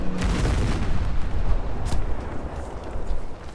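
A grenade explodes in Battlefield V with a loud, rumbling blast, followed by booming rumbles and gunfire-like bursts in a continuous noisy battle.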